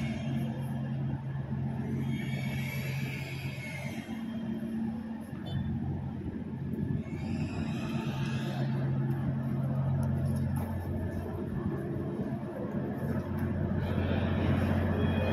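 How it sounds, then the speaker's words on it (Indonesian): A KCIC400AF high-speed electric multiple unit train hums and whines as it rolls into Padalarang high-speed station, a steady mechanical drone with shifting tones and no voices. "Electric Multiple Unit KCIC 400 AF saat ini sudah berada di hadapan kita, barusan tiba di stasiun kereta cepat Padalarang"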